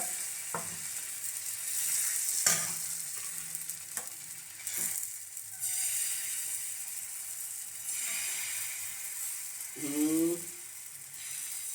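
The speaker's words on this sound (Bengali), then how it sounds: "বেগুন তেল দিয়ে দিয়ে দিচ্ছে তাওয়াতে" Eggplant fries in oil on a tawa griddle with a soft, low sizzle, broken by a few sharp utensil clinks and scrapes and a short, faint vocal sound near the end.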